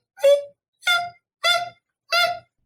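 A person vocally imitating manatee sounds with four short, evenly spaced voiced calls, each a brief nasal squeak-like tone, close and clear against silence.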